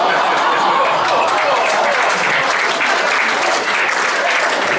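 An audience at a kale dinner gathering in Herford applauds, a sustained, dense clapping that fills the room evenly at moderate loudness, with a faint chuckle amid it.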